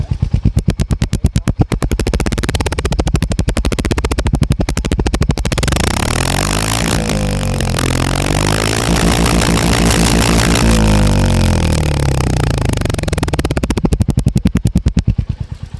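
A Royal Enfield Hunter 350 motorcycle idles with its steady normal thump, loud and close, the engine running hot, with a brief blip of revs in the middle before settling back to the even beat; no talking.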